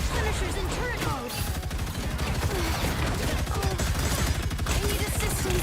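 Rapid automatic turret fire in a video game from Punishers in turret mode, a dense, loud fusillade of shots rattling continuously, with voices and other game sounds mixed in.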